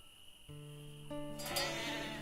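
In the medieval village game Life is Feudal, a sheep bleats twice, short wavering calls close by over faint ambient game sound.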